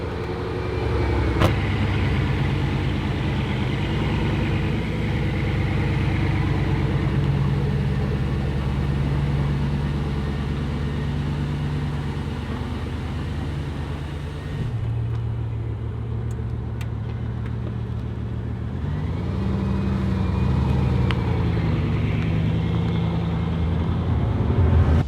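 A Bugatti idles with its quiet stock exhaust, a smooth low steady engine hum heard from inside the car, with slight shifts in pitch as the revs settle and rise again.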